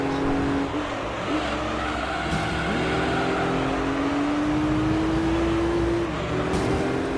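A race car's engine in Gran Turismo 3 drones loudly and continuously, its pitch climbing through gear changes with short drops between shifts, steady and close throughout.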